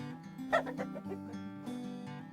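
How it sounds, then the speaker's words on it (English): A rooster gives a few soft clucks and short calls at close range, with a low steady hum in the background. "That rooster comes over here."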